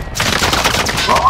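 Gunfire in Call of Duty: Modern Warfare comes as a loud, dense burst of one or more close shots that fills the short moment, with game sound and a hint of voice around it.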